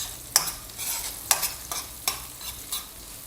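Onions fry gently in oil that is not very hot while a utensil stirs them, leaving a soft, steady sizzle broken by several sharp scraping strokes at uneven intervals.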